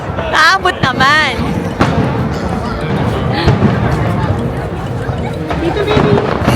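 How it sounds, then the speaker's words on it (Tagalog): New Year fireworks burst with loud bangs and crackles amid an outdoor crowd, with people chattering and calling out over the explosions. "Ewan ko kung saan namin makikita yung fireworks."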